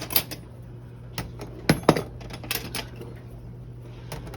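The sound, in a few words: cutlery being loaded into a dishwasher silverware holder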